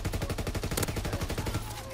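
Video game gunfire in a Search and Destroy match rattles as a rapid automatic burst of evenly spaced shots, loud and close, trailing off near the end with no speech.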